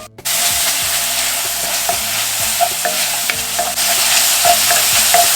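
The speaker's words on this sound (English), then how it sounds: "You want to saute your peppers, your onion, and your garlic for 30 seconds" Peppers, onion and garlic sauté in a pot for a seafood paella with a loud, steady sizzle, close by, broken by repeated spoon scrapes and taps against the pot. The sizzle swells near the end.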